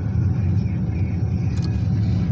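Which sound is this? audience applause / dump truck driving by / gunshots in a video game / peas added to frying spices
dump truck driving by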